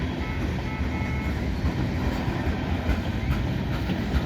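A CN freight train rolls past an interlocking near Sainte-Anne-de-Bellevue Boulevard in Montreal at rush hour, a loud, steady rumble with a clickety-clack of wagon wheels throughout.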